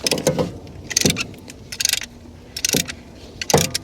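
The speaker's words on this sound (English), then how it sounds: "Let's go ahead now and compress our caliper." Front brake caliper piston on a 2017 BMW X5 being compressed, heard as several separate metallic clicks and scraping bursts spaced about a second apart, close and fairly quiet.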